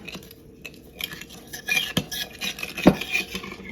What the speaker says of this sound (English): I have my ingredients in my bowl. I'll just kind of mix it together.